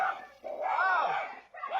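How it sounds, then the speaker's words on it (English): Vicious dog in Dark Souls 3 letting out a couple of short, close barks and yelps with a brief pause between them. "watch out, that dog's really vicious"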